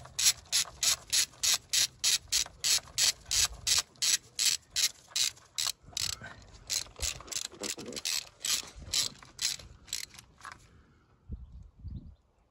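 A ratchet wrench clicks in a quick, even series of ratcheting strokes as a 10mm bolt is torqued, heard up close, then it stops and a few soft handling knocks follow.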